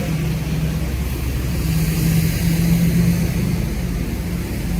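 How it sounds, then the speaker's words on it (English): A cement truck and a Toronto street sweeper pass along a rainy city street, making a loud, steady engine rumble and roar that swells slightly midway without letting up. "In addition to the cement truck over there, we have the Toronto sweeper going over there."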